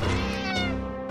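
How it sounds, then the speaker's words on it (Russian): Cat meowing in the video game Friday the 13th Killer Puzzle, one drawn-out, close and clear meow. "Кошка вот."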